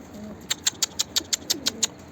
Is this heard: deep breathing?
no